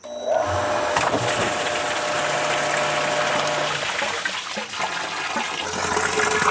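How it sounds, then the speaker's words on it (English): A Lanchez sand filter pump switches back on and recirculates water into a pool, giving a loud rushing, gushing flow with a low mechanical hum beneath it that stays fairly steady throughout. "Power, and it's gonna turn the system back on and start recirculating into the pool."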